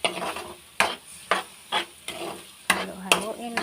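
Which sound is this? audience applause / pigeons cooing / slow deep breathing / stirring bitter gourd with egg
stirring bitter gourd with egg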